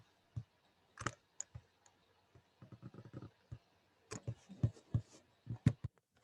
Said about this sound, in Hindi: अगर मैं यहाँ पे टाइपिंग कर रही हूँ